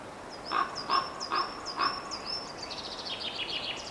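Common raven calling: a series of four loud, nasal croaking calls at steady intervals close by, followed by softer, rapid overlapping calls trailing off.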